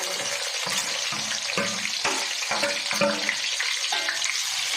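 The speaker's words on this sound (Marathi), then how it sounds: "ते व्यवस्थित फ्राय करून घ्यायचे तेलामध्ये." Three large onions, sliced lengthwise, sizzling in hot oil over a high gas flame for chicken dum biryani, a loud steady crackle with rhythmic scraping as they are stirred.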